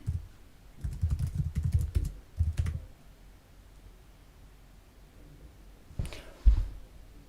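Someone types code on a computer keyboard in short bursts of quick clicking keystrokes, pausing for several seconds of near silence before a final brief flurry of taps.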